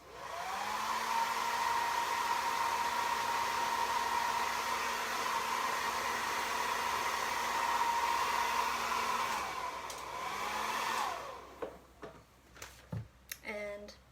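A hair dryer drones steadily for about ten seconds, drying a small painted pot, then cuts off, followed by a few light clicks and handling taps.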